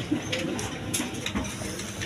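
A pair of pigeons brooding their eggs make low, murmuring coos in a continuous, soft rumble close by, with a few faint clicks and rustles.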